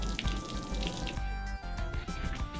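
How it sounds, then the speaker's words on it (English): Water drains out of a Georgetown Class A motorhome's water heater tank, a steady close rush and splatter with gurgling shifts partway through, no talk. "So water's running out of the tank, and we'll wait till it drains out."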